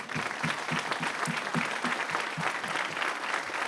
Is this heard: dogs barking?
no